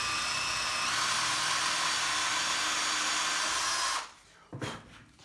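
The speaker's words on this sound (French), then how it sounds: "Vous reprenez votre perceuse. Toujours pareil, essayez d'être le plus droit possible." Power drill boring a dowel hole in wood for a jointer cabinet build: a steady, loud whine for about four seconds, then it stops abruptly, followed by a short bump and a brief burst of motor noise.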